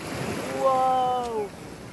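Ocean surf at Pasicon Beach, Siargao, a steady windy wash of waves close by, with a voice calling out briefly over it midway.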